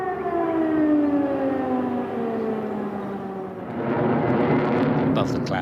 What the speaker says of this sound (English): Air raid sirens blared out across the capital.